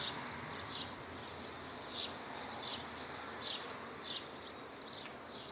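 Steady outdoor buzzing of many honeybees at a hive fills the air, with a few louder passes by individual bees near the microphone at regular intervals.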